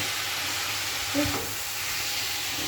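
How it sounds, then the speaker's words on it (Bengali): Onion, green chilli, nigella seeds and shrimp frying in hot oil, a steady broad sizzle with a short stirring scrape in the middle. "কিছু ভাজা হচ্ছে পেঁয়াজ কাঁচা লঙ্কা কালো জিরে ফোড়ন দিয়ে চিংড়িটা ভাজা করবো"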